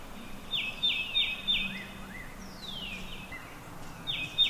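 Birds calling in winter woods, a few faint repeated chirps and whistles at a distance over a quiet outdoor background.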